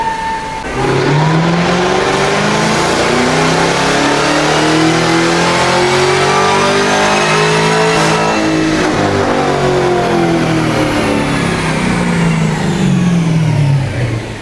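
A supercharged car engine with a carbon fiber supercharger lid revs hard and loud, pitch sweeping up then back down as it decelerates, with a faint supercharger whine riding over the roar.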